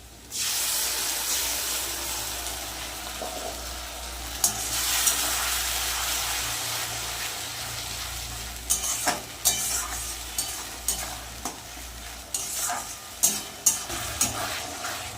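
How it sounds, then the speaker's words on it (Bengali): Ginger, garlic and tomato paste fries steadily in a pan for a desi chicken curry, a constant loud sizzle with spatula scrapes and clacks growing more frequent in the second half, no voices. "আদা রসুনটা ভালো করে ভেজে নিয়েছি"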